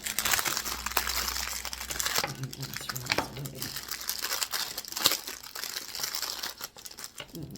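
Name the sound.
plastic bag crinkling while unwrapping a cosmetic scoop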